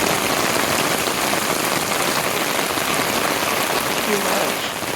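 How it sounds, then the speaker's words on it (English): Heavy rain pours down steadily in a dense, unbroken hiss, close and loud, outdoors at Lincoln's Tomb. "it is raining like crazy"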